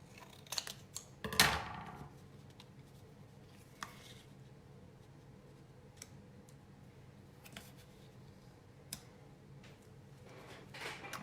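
Scissors snip through a paper craft piece for a winter gift project, one sharp cut near the start followed by faint ticks and rustles in a quiet room.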